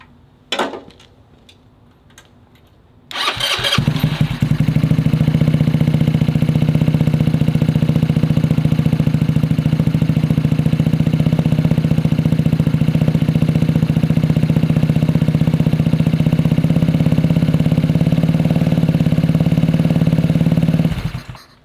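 A GY6-powered trike engine cranks over with a brief clatter after a few seconds of near quiet, catches and settles into a loud, steady idle that runs without a break for the rest of the clip.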